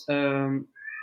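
A pet cat lets out a loud, close meow lasting about half a second, followed by a short, thinner second call, with nothing else around it.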